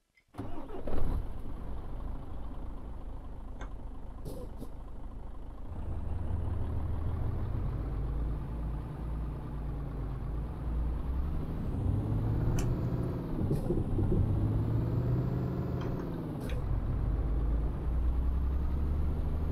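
A lorry engine cranks and catches in Euro Truck Simulator 2, then settles into a steady idle and revs up as the truck pulls away in low gears. The engine is close and moderately loud, with no talk over it.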